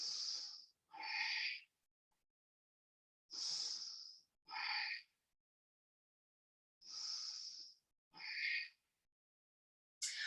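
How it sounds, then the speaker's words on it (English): Slow, deep breathing during a yoga practice, three close paired inhale-exhale cycles, each breath a soft airy rush separated by silence. "Deep breath."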